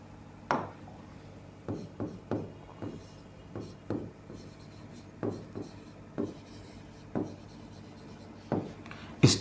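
Hand writing out an example, a series of short, distinct scratching and tapping strokes at irregular intervals, fairly close and clear over a quiet background.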